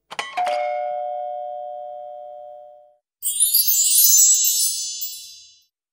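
A doorbell rings alone: a two-tone ding-dong with a long fading tail, followed by a brighter, higher electronic chime that rings for a couple of seconds.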